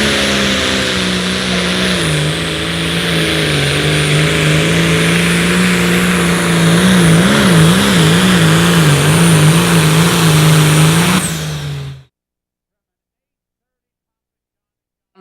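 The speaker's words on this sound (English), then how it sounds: "60-30 John Deere going down the track." A loud John Deere 6030 diesel pro stock pulling tractor engine roars continuously down a pulling track, its pitch wavering as it strains under load, then cuts off abruptly into silence.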